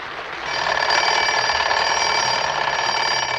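A human voice imitates a radio alarm clock starting up in the morning: a sustained, buzzy, ringing tone that swells in after half a second and holds steady.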